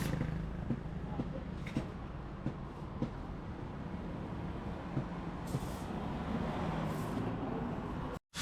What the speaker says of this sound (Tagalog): Maraming sasakyan dito ah.